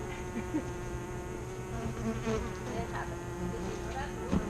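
Steady, continuous buzzing of honeybees at a beehive hums throughout, fairly close, with faint scattered ticks and rustles underneath.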